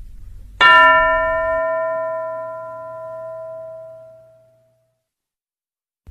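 A bell is struck once and rings out clearly on its own, its bright metallic tone slowly fading away over about four seconds into silence.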